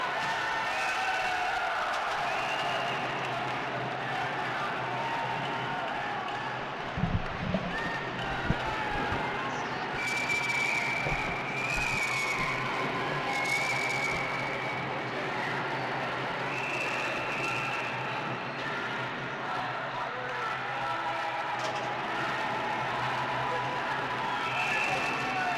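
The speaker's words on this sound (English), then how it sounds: "A lot of cheering going on here in this electric atmosphere in Liberec, Czech Republic" A crowd cheers and roars steadily throughout an under-18 Slovakia versus Canada ball hockey game at the World Junior Ball Hockey Championship in Liberec, Czech Republic, with a commentator talking over the arena noise.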